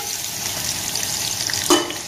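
Onion and carrot frying in hot oil in a pan for a leek dish. The crackle is steady and close, with a brief louder burst near the end as more goes in.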